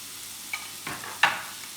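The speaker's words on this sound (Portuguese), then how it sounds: "Vamos refogar isso aqui." Chopped carrot with pepper and a spoonful of salt sautéing in a pan, a soft low sizzle broken by a few brief stirring scrapes, close and quiet.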